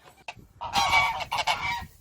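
Geese honking close by in a wintry rural spot on Ganghwa, with loud overlapping calls that come in several bursts over about two seconds.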